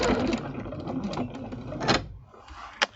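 Sewing machine stitching a scrap-fabric quilting rose in place, a rapid mechanical chatter of needle strokes lasting about two seconds, then a short pause and a brief final burst.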